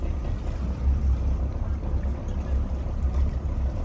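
Twin boat engines run forward during a Lake Erie crossing, a steady low rumbling drone with churning water noise, fairly close and continuous, with no clear talk.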